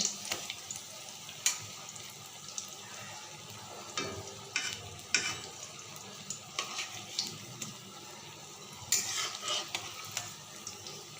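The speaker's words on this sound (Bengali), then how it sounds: "আমি বড়াগুলোকে এদিক ওদিক উল্টে পাল্টে করে ভেজে নেব।" Ash gourd leaf fritters fry in hot oil over a lowered gas flame and are turned now and then: a soft steady sizzle broken by scattered scrapes and light clinks of the turning utensil.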